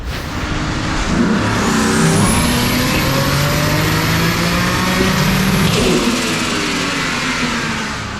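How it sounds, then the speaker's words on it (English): A loud drift car engine on a dyno revs hard in third gear and holds at the rev limiter, stuttering steadily against it for several seconds, close and continuous. "Needed to make sure it was going to bounce off the limiter."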